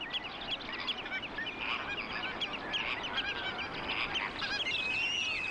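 A large flock of greater and lesser flamingos calls in an African lagoon, a dense, continuous chorus of honking, goose-like cries from many birds.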